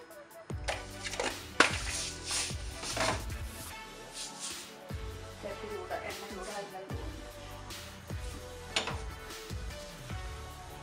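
Mustard seeds pop in hot coconut oil for a Kerala red fish curry (mulakitta meen curry): scattered sharp crackles and snaps, some close and loud, over a steady tonal background.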